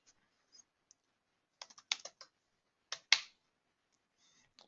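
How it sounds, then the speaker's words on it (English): Typing on a computer keyboard comes in sparse clusters of crisp key clicks with pauses between bursts, close and fairly quiet in a silent room. "So don't worry what I'm typing right now."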